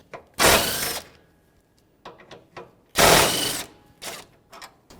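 A ratchet with a 12mm socket turns bolts on a 2013-2018 Toyota RAV4 during AC condenser replacement, giving two long bursts of rapid clicking and several short clicks in between, close and clear.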